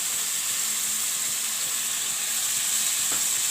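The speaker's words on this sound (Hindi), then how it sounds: "अब अदरक लहसुन के साथ इसको फ्राई करना है," Boneless chicken pieces fry with ginger garlic paste, giving a steady, soft, hissing sizzle with no break.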